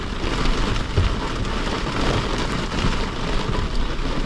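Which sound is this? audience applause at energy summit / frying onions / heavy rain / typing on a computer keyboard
heavy rain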